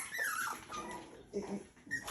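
Puppies whimper and whine in a kitchen, frustrated at being kept out of a dishwasher; several high, wavering cries come close together, with short yips near the middle and end, nearby and fairly loud.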